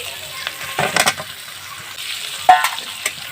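Chicken curry with fried potatoes sizzles in a pan while it is stirred, giving a steady hiss with scraping stirs and one sharper knock of the utensil against the pan.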